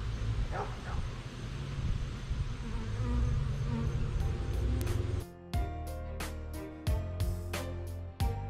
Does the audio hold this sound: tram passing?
no